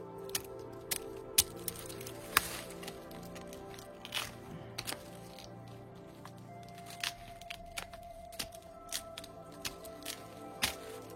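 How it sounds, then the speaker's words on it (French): Wood chisel scraping bark off a tree down to the cambium in the forest, sharp irregular scrapes and clicks, close and fairly quiet. "alors on va employer des ciseaux à bois"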